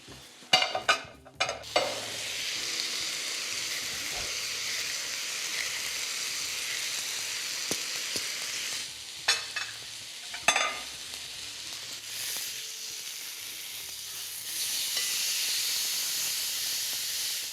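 A slice of Sisteron lamb leg sears in a hot pan, giving a steady close sizzle and hiss with occasional clicks and stirring knocks, and no voices.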